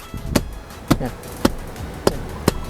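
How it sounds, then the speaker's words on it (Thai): A hand slaps down on the rear seat cushion of a 2018 Toyota Fortuner TRD Sport five times in an uneven rhythm, each hit a sharp, close, dull thump with a slight springy rebound. "พอดูเบาะเนี่ยตีลงไปเด้งเลย"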